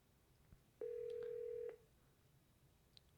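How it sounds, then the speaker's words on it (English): A single steady tone lasting about a second sounds from a Yealink T54W desk phone as a number is dialed, with light background noise before and after. "So I'm going to go and dial my number out that we have over here."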